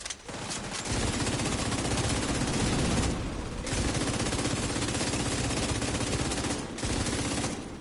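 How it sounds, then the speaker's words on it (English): Rapid, continuous bursts of gunfire rattle loudly throughout, with brief dips, dense and sustained like automatic weapons in a firefight. "Was that gunfire?"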